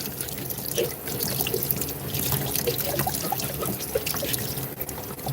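Water runs steadily through a spray gun being rinsed out, a constant splashing, trickling flow close by with small spatters and drips throughout.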